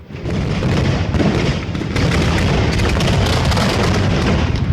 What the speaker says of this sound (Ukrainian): Піротехнік, на відміну від глядачів, чує два вибухи: перший, коли спрацьовує заряд, і другий від самого феєрверку.